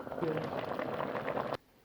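Homemade tomato sauce bubbles as it cooks in a pot on the stove, a steady close simmering and popping that stops abruptly after about a second and a half.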